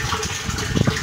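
Water gushing strongly from a 1-inch pipe fed by a jet pump, up on a second-floor roof, a continuous close rushing splash.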